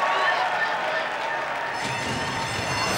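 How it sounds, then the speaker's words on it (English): Roar of the Santa Anita racetrack crowd as the Breeders' Cup Classic field breaks from the gate, a broad loud cheer swelling under steady race commentary. "sent on their way in the Breeders' Cup Classic to the roar of the Santa Anita crowd"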